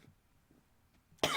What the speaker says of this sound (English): I like burped and coughed at the same time